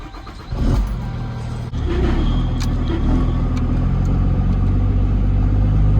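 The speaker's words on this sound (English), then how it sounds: "Tell me why the fuel pump is louder than the truck" A twin-turbo 1400 HP SEMA truck runs steadily up close, a loud constant engine drone with a whining fuel pump, briefly rising after a short dip near the start.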